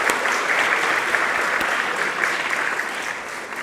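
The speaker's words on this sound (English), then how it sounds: "would you please join me in a round of applause to thank them for sponsoring these very worthy programs here at the Art Institute." A lecture audience at the Art Institute gives a round of applause to thank sponsors. The clapping is steady and full, close and continuous throughout the short stretch.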